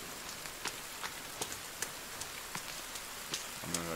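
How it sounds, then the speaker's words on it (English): Steady rain pattering on surfaces in the survival game The Forest, a soft, continuous hiss with scattered sharper drop ticks throughout, no voices. "Rain!"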